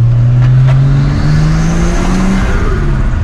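A car engine revs hard through custom Dose exhaust pipes, giving a loud, close, continuous growl that rises and sweeps in pitch for a few seconds, with no voices over it.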